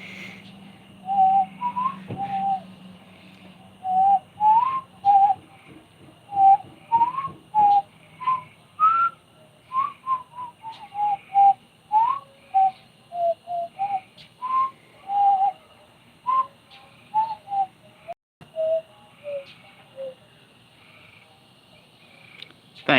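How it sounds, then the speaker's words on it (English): A person whistles a bouncy tune alone, clear and close, with short separated notes hopping up and down in a steady rhythm. "Thank you for the lovely whistling."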